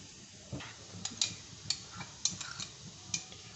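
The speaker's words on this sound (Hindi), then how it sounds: "सोया सॉस और टू टेबल स्पून सिरका। इन तीनों को मैं मिक्स कर लूंगी" Spoon clinking and scraping against a bowl while tomato ketchup, vinegar and soy sauce are mixed together, a handful of light, sharp taps spaced irregularly over quiet background, no talking.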